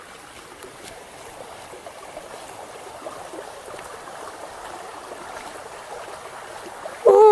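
Creek water flowing at a campsite, a soft, continuous wash of running water that swells slightly toward the end, with no one talking.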